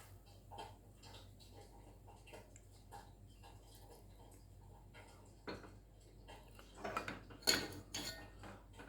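A spoon stirs milk boiling in a pot for a cough and cold remedy, giving faint scraping clicks against the metal over a low bubbling hum, with a few louder clanks near the end.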